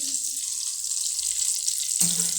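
Egg frying in a pan with a potato and chicken mixture, a steady bright sizzle throughout with a louder burst of crackle near the end.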